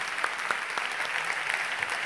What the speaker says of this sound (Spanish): Disfruten aplauso